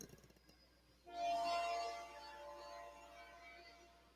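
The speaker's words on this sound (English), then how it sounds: "The train is going to go by and it's going to be loud." A train passes at a distance, rising into a broad rumbling roar about a second in and then slowly fading while it stays steady, faint overall and with no voices over it.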